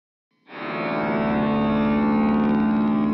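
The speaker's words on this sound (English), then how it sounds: "Now we're going to use the pog to get rid of the attack and have a swell" A fuzz guitar run through a POG octave pedal swells in with no pick attack after a short silence, settling into a loud, sustained, smooth pad that holds steady to the end.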